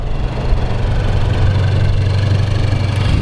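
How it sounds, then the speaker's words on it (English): A 2022 Toyota GR86 flat-four engine idles, a loud, close, steady low rumble with an even pulsing throb and no revving or talk. "There's that fantastic flat four engine."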